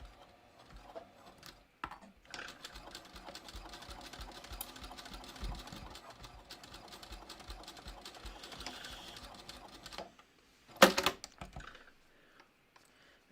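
A sewing machine stitches a clear vinyl project bag, running in a steady mechanical whir for several seconds, then pausing before a brief louder burst of clatter near the end.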